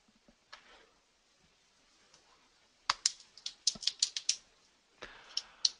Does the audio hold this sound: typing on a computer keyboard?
yes